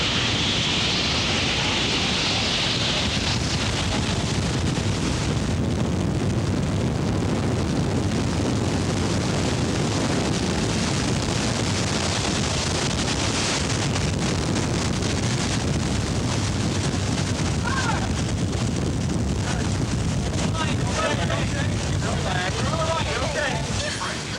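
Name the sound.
tornado wind roaring during a cyclone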